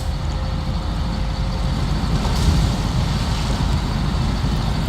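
A heavy truck in the video game SnowRunner drives along, its engine a steady, loud, low rumble with broad road noise that swells slightly midway and carries on without pause.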